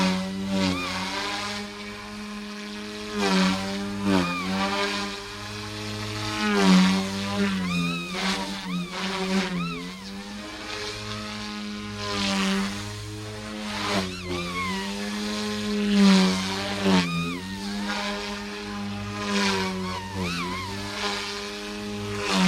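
A Blade Infusion 180 RC helicopter fitted with a MicroHeli 65mm three-blade tail flies in normal mode, its close, loud motor and rotor whine rising and falling steadily in pitch as it cruises, with no talking.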